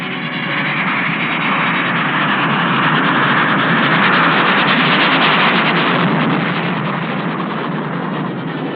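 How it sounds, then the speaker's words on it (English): A military aircraft's engines roar steadily during takeoff, a loud, dense broadband rush that holds for several seconds and swells slightly in the middle. No voices are heard. "Red flight's ready for takeoff."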